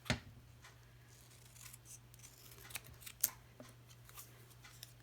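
Scissors trim a paper greeting card that has a grunge finish from embossing paste. Soft, quiet snips and rustles are spread over a few seconds, close by, with a low steady hum underneath.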